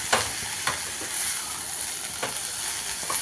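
Half-boiled toor dal going into a hot frying pan, a loud steady sizzle with several scraping stirs of a spoon, close up, with no voices.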